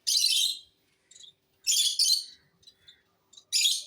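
Pet birds let out loud, shrill squawking bursts in a few separate clusters, close to the microphone with quiet gaps in between.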